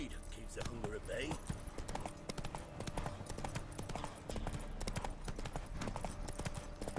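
Horse hooves clip-clop steadily in The Witcher 3 while riding through Crookback Bog, a continuous close rhythm of clops under game music and ambience, with someone talking over much of it.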